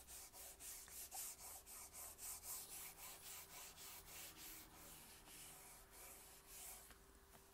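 Paper is rubbed by hand for a scrapbook backpack craft, giving a quiet, close, rhythmic scratchy swish with about a dozen quick strokes in steady succession and no talk.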